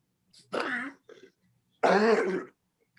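Two separate coughs from one person, close and fairly loud, the first a rougher throat-clearing burst with a faint catch after it, the second longer and fuller after a short pause.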